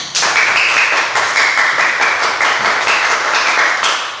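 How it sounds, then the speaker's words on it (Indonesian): Classroom applause for a student group after their presentation, a dense burst of many hands clapping steadily and close for about four seconds before tapering off. "Berikan tepuk tangan"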